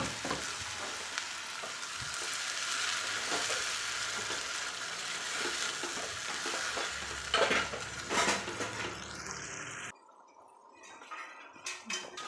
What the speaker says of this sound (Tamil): நம்ம அரைச்சி வச்சுருக்கிற தக்காளி விழுதையும் இதிலேயே சேர்த்துடலாம்.